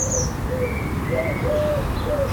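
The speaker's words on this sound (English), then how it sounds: "In the background, you can hear collared dove cooing" A collared dove coos faintly in a garden, soft repeated tones sitting behind a constant loud background rumble, with a brief higher bird chirp near the start and no talking.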